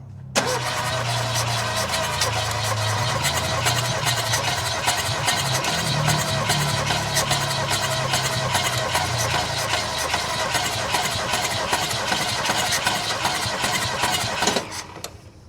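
An old Ford engine, unstarted for forty years and fired from a booster pack, runs loud and close with a steady rough clatter for about fifteen seconds before cutting off abruptly at the end.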